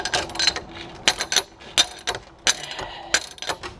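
A ratchet working loose a wheel bearing bolt on a Nissan G35 makes sharp, irregular metallic clicks in short bursts, close and fairly faint, with brief pauses between strokes.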